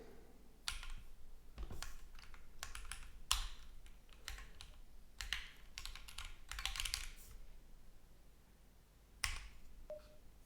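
Someone types on a computer keyboard while writing a script, with irregular bursts of close, quiet key clicks, short pauses between them, and a single louder clack near the end.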